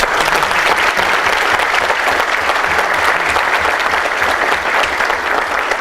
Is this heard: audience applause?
yes